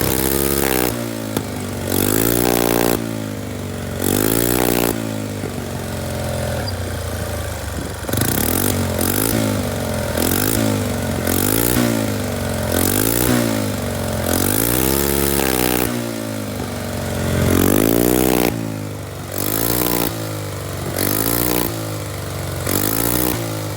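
A Kisbee 4T scooter engine fitted with a Leo Vince exhaust is revved repeatedly close up, each rise and drop in pitch coming in a steady series of throttle blips over a running idle.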